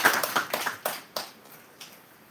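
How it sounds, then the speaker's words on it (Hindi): An audience claps during a talk at a spiritual workshop, a handful of scattered claps and short bursts rather than sustained applause, fading toward the end. "ताली ताली ताली"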